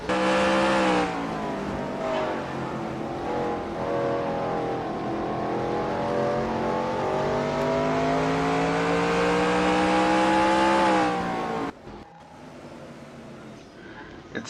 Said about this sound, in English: Meanwhile, we have a pretty decent battle here for 8th between the 80 of Salter and the 7 of Edgewater